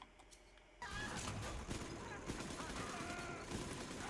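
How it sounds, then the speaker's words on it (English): Machine gun fire in BioShock 2, a sustained noisy barrage that starts abruptly and keeps going under scattered impacts, loud and close in the game mix. "Machine gun!"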